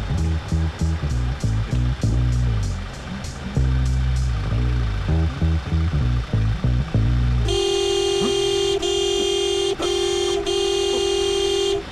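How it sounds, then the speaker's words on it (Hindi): Car horns honk in the street near a construction site, several long sustained blasts with brief breaks, loud and close, following a stretch of rhythmic music. "हॉर्न कहाँ बजाया जा रहा है? बजना शुरू हो गया।"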